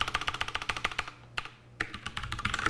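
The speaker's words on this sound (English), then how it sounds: "This is a CM Storm gaming keyboard, mechanical keyboard, and it drives people crazy because this keyboard" Steady fast keystrokes on a CM Storm mechanical gaming keyboard, loud and clacky up close, with a brief pause midway before the typing resumes.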